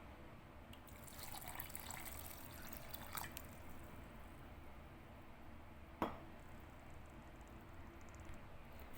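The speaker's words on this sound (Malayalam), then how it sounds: "ഇനി ഇത് അരച്ചെടുക്കാനുള്ള വെള്ളം ചേർത്ത് കൊടുക്കാം." Water is poured into a grinder jar of soaked ingredients and grated coconut to make breakfast batter. The trickle is soft and faint, followed by a small clink against the jar.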